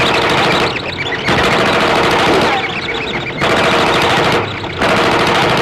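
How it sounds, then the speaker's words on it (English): A machine gun fires in the film Rodan in three long, loud bursts of rapid, rattling shots, separated by short gaps filled with echo and battle noise. "Time to break out the machine gun."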